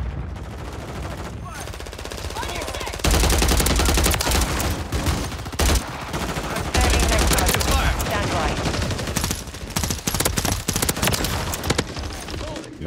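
Rapid automatic gunfire from Call of Duty: Modern Warfare III, loud, dense bursts with booming shots and game effects, several sustained volleys over a steady backdrop of action.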